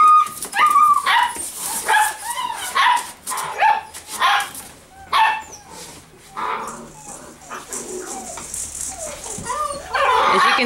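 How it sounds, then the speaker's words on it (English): Several 10-week-old standard poodle puppies yip, bark and whimper in high, excited bursts inside a whelping box, close by and overlapping, with some rattling in the background. "So these are 10-week-old standard poodle puppies."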